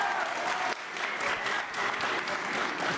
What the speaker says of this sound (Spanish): ¿le están aplaudiendo a Uribe o no?